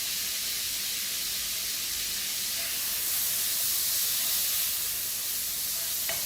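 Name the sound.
garlic sautéing in a pan with salt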